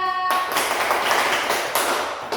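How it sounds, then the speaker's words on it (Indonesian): Schoolchildren in a classroom clap for a classmate, a close, dense burst of hands clapping together that starts suddenly after a brief voice and continues steadily for a couple of seconds. "Tepuk tangan buat Sinta"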